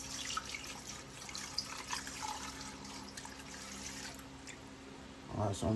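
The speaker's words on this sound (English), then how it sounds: "I'm gonna fill this up with water and then I'm gonna scrub it real good." Tap water runs steadily into a container being filled to soak pork belly in a kitchen sink, a continuous hiss with some splashing, fairly faint, ending in a few louder knocks.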